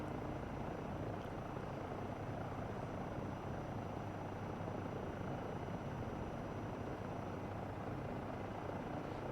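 EC135 helicopter in Microsoft Flight Simulator 2024 runs its engines with a steady, dense turbine and rotor roar at moderate level for about nine seconds, unbroken and with no voices.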